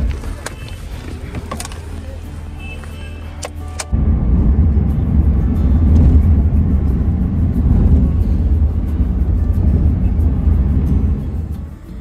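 Engine hum and road rumble of a car ride booked through inDrive, a low steady drone that jumps louder partway through and holds close and constant, with no clear talk.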